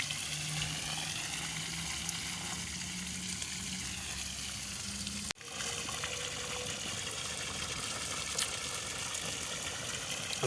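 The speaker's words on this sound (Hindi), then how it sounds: "देखो पानी प्रेशर के साथ बोर का पानी" Water gushing under pressure from a newly bored borewell fitted with a submersible pump, a steady loud rushing wash that continues throughout, briefly cut once near the middle.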